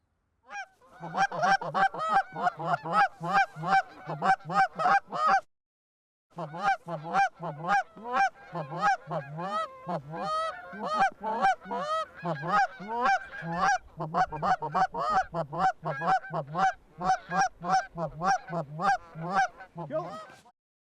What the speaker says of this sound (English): There was a lot of geese coming to this field